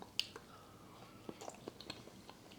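Someone chews crunchy roasted chestnuts, a few soft, faint crunches spaced apart at close range with no talk.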